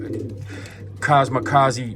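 Pigeons coo in a loft, soft throaty rolling calls close by, overlapping with someone speaking.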